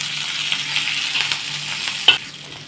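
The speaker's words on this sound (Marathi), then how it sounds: "जरी कांदा भाजला ना तरी असा तेलात टाकून अजून 2 मिनिटं छान परतून घ्यायचा" Sliced onion and dried coconut sizzle steadily in hot oil while being roasted for a spicy rassa, with a constant bright crackle, a few soft stirring scrapes, and one sharper clink near the end.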